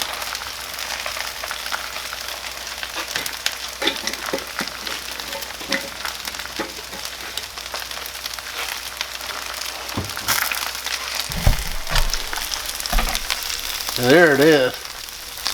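Eggs frying on a Blackstone griddle crackle and sizzle steadily with sharp pops, while someone speaks briefly over the hiss.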